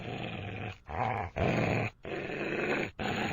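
Deep, menacing growls play on the Hungry Shark game start screen, four long snarling bursts separated by brief silences, loud and close with no talking over them.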